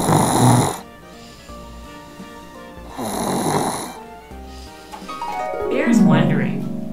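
A dinosaur character in a children's book reading snores, three long, loud, rasping breaths repeating at a slow rhythm, voiced by a person imitating the snore.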